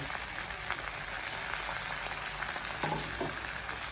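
Catfish going into a simmering Thai curry with wild ginger and being stirred, a steady soft bubbling sizzle throughout with a few faint clinks of the spoon, no talking.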